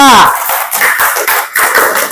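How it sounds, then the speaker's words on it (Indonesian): A classroom group applauds a group presentation: a loud, dense patter of many hands clapping close by. A voice is heard briefly at the start. "Tepuk tangan untuk kelompok 3"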